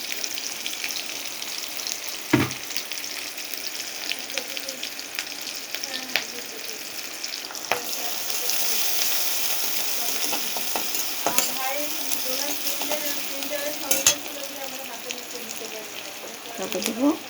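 Onion and green chili fry in oil in a pan, a steady hiss of sizzling with occasional sharp clicks of a utensil and brief stirring scrapes.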